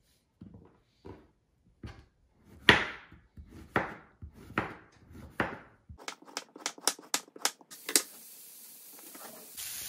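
A knife chops vegetables such as onion and courgette on a board, with slow, distinct cuts that speed up into a quick, even run of chops near the end, close-up.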